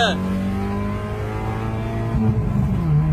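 A race car on a night track launches hard in first gear on nitrous, its engine note climbing steeply and loudly close by in one sustained pull, with a rising whine near the end.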